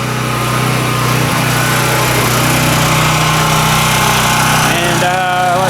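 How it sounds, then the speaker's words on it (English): A workshop air compressor, just switched from off to auto, runs with a loud, steady motor drone and mechanical chatter throughout, close by and continuous, with a faint rising whine near the end. "This compressor is on off right now, so we'll just turn that to auto."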